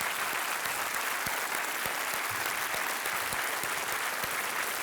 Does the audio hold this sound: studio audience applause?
yes